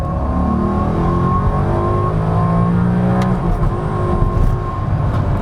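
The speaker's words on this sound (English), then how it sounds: "when you get on the power there, it really shifts precisely" Inexpensive used Maserati accelerating under power, engine note climbing steadily in pitch as it pulls through precise gear shifts, loud and close from inside the car with no talk.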